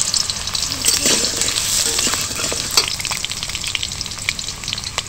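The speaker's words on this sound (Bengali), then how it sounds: "এবার যে আলুগুলো আমি লম্বা লম্বা করে কেটে রেখেছি এগুলো ভেজে নেব।" Long-cut potato slices fry in hot mustard oil in a kadai, a steady dense sizzle with occasional stirring scrapes, close and continuous without voices.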